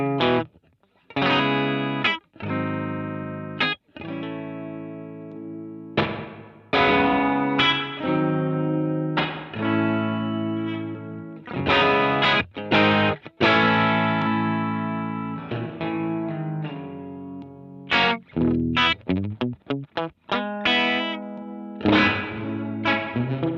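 An electric guitar through a NativeAudio Ghost Ridge V1.5 reverb pedal plays a string of picked chords and single notes. Each attack blooms into a long, washy tail that rings over the gaps, loud and close, with no talking.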